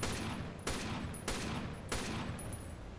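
Rainbow Six: Shadow Vanguard gunfire: four loud, evenly spaced shots about every 0.6 seconds over a steady game background, with no talk.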